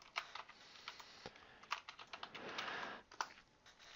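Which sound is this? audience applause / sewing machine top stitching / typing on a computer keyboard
typing on a computer keyboard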